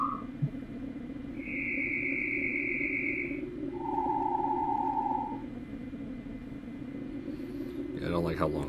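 Two sustained synthesized tones made in a game audio tool during a Ludum Dare game jam, a higher steady beep followed by a lower one, each lasting about two seconds over a constant background hum.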